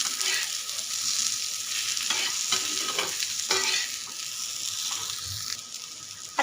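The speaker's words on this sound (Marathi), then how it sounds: "हा राहिलेला शेंगदाण्याचा कूट आहे ना अशा पद्धतीने वरून टाकून घेऊया आणि हा सुद्धा याच्यामध्ये छान मिक्स करून घ्यायचा" Stuffed bitter gourd with crushed peanuts sizzles and fries in a hot pan while a spatula stirs and scrapes it, a steady close hiss broken by a few scraping strokes.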